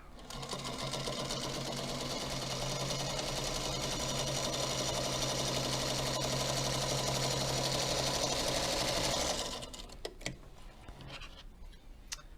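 A Featherweight sewing machine stitches steadily and loudly for about nine seconds with heavier thread on a shortened stitch length, then stops abruptly, leaving a few faint clicks and handling noises.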